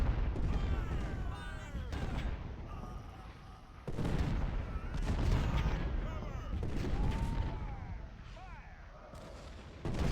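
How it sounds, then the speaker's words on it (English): Artillery and musket fire in Ultimate General: Civil War, a Confederate campaign battle with Union batteries moving up; dense, continuous rolling booms and crackling volleys with sharp bursts around the fourth second, sustained throughout. "it's pretty much just an artillery battle at this point"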